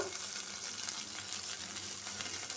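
Powdered turmeric, chili and coriander hit hot oil with a little water in a pan for a potato and puti fish curry, giving a steady, loud hissing sizzle with faint stirring.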